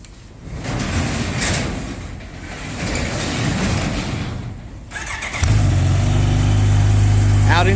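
A 2023 Kawasaki Ninja H2 fitted with a Vandemon exhaust pulls away: wind and rumble first, then after about five seconds a loud, steady, close engine drone rises in pitch and holds to the end.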